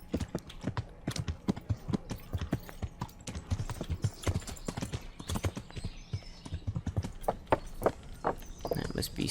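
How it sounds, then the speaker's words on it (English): Horse hooves clip-clopping at a steady walking rhythm in the medieval game Kingdom Come: Deliverance, close and distinct, with someone talking over the footfalls. "That must be Sir Radzig's horse."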